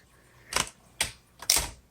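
Three sharp, separate keystrokes on a 1965 Olympia SM8 manual typewriter, each a crisp clack, close and distinct against a quiet room.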